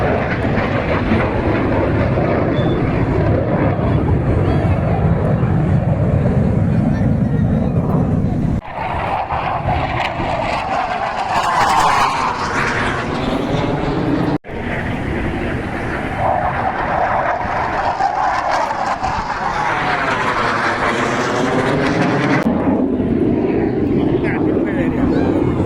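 Jet aircraft roaring overhead during a practice air display, a loud continuous rushing drone that swells and fades in passes, with a couple of abrupt breaks.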